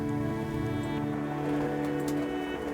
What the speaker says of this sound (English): can probably hear the rain coming down at a real steady pace